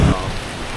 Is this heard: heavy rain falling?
yes